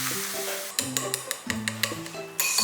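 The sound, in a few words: hot oil poured over chopped chili and scallion, sizzling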